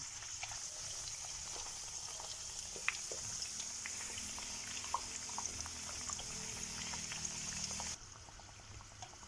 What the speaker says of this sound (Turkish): Şimdi kızgın yağ içerisine böreklerimi bırakıyorum